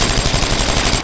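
Rapid, loud automatic gunfire in Brothers in Arms: Road to Hill 30, a World War II shooter, with dense overlapping bursts of machine-gun and rifle fire continuing throughout with no break.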